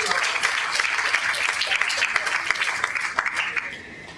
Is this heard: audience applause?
yes